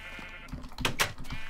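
Sheep bleating in a Minecraft barn among other farm animals, a few short, clear bleats around the middle of the clip over a steady game background hum.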